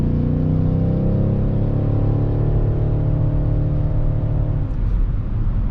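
A 2021 BMW X6 M50i SUV accelerates on a snowy New Hampshire road, heard from inside the cabin as a loud, steady engine drone with a rising tone that levels off, under road rumble.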